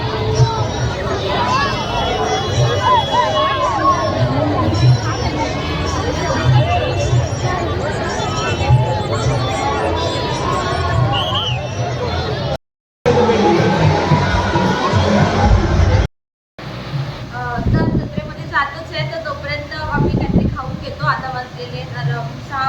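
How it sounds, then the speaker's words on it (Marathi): Dense, steady crowd hubbub at the Mahashivratri fair in Ambernath, with children shouting and chatter throughout, briefly cut out twice before resuming just as busy. "तिथे किती गर्दी आहे बघू शकतो"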